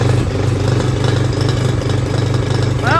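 A Polaris RZR side-by-side engine idles steadily after a throttle linkage repair, a loud, close, even rumble with a slight rise in revs near the end.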